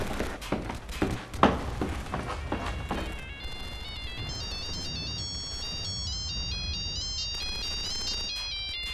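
A cell phone ringtone plays a bright, melodic electronic pattern that repeats clearly for several seconds. A few dull thumps and knocks come before it.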